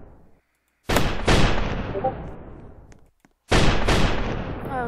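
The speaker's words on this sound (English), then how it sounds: "I'm placing snipers everywhere." Sniper towers firing in Roblox Tower Battles: sharp, loud shots with long decaying tails, three close reports spaced apart, a short silent gap, then two more in quick succession.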